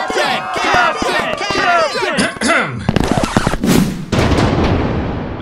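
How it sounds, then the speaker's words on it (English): Fireworks at a superhero party: a rapid volley of sharp bangs and crackles, loud and close, with crowd cheering and whistling layered over the bursts. "How about some fireworks to keep things going?"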